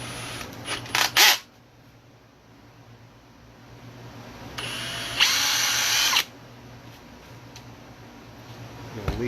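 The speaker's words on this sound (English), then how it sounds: "We're going to drill that." Power drill boring a screw hole in a truss rod access cover for a guitar, a couple of brief close whirring bursts separated by quieter stretches, no speech.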